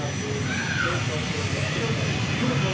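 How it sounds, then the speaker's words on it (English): Cessna Citation X business jet at Dallas Love Field, a steady, loud jet engine whine and rumble with a faint rising tone, heard close by with voices talking over it. "Ooh, a Cessna Citation X."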